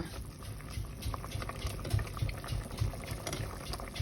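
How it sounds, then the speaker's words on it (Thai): A pot of northern Thai beef aom curry, thickened with blood and meatballs, simmers softly, giving low, continuous bubbling with small pops and an occasional gentle stir, faint and close with no voices. "ตอนนี้นะคะ อ่อมของเรากำลังเคี่ยวดีจังเลยนะคะ"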